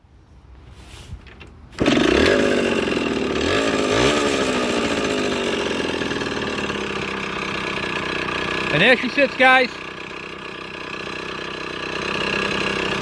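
A 1980 Yamaha GT80 motorcycle engine fires up close by and settles into a loud, steady idle with a short burst of revs near the end, and someone speaks briefly over it.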